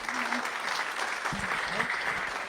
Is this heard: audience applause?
yes